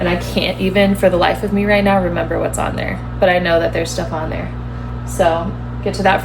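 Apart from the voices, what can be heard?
No distinct noise like a dog, phone or traffic.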